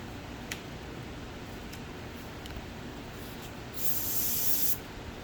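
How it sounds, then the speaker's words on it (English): A brief airbrush hiss at 12 to 13 psi, spraying very thin paint on a Tamiya M8 Greyhound scale model, bursts for about a second over faint background noise, with a few soft clicks before it. "And I'm spraying at 12 or 13 psi"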